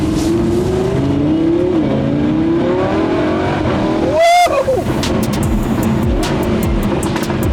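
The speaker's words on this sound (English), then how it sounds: "Hear the nice exhaust note of the V10 just sat directly behind me." A V10 sports car, either a Lamborghini Huracan LP 610-4 or an Audi R8 V10 Performance, roars from just behind the cabin. The engine climbs through the revs, snaps through a quick gear change, then pulls again with crackles trailing off.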